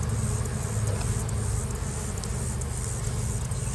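Honey bees from a newly caught swarm buzz steadily in a hive, a dense continuous hum that stays even and close for the whole stretch.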